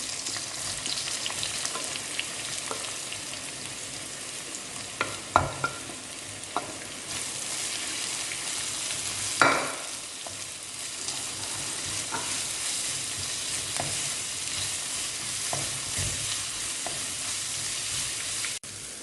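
Chopped onion frying in a mix of ghee and sunflower oil for Thalassery chicken biryani, a continuous hiss and crackle with occasional clanks and scrapes of stirring, close up with no talking.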